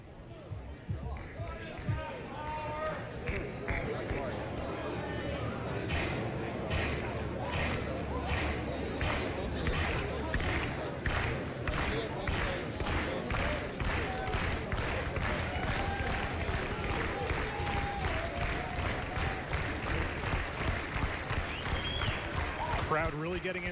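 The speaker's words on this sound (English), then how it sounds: "You can hear them clapping along to the beat played by the in-stadium announcers there" Baseball stadium crowd at a Giants Canada Day game clapping in steady rhythm along to a beat over the park speakers, a dense continuous wall of claps with crowd noise and a commentator talking over it.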